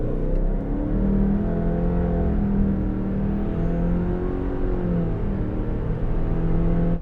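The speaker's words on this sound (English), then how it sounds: "let's see what it can do with a quick acceleration test." A 2023 Subaru Ascent accelerates hard from inside the cabin, its engine droning steadily louder with rising pitch and simulated gear-shift steps, continuous throughout.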